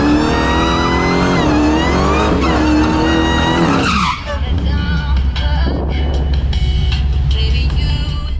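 A Tesla Raven and a high-octane-tuned 840-horsepower Dodge Demon launch in a drag race: a loud, close, rising engine roar with tire squeal for about four seconds, then a sudden drop as the cars pull away, leaving a rushing wind-like background.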